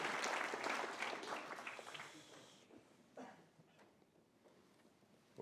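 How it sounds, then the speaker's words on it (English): Audience applause at an annual energy lecture, loud clapping at the start that thins out over a few seconds, leaving scattered claps and room noise. "So we can applaud."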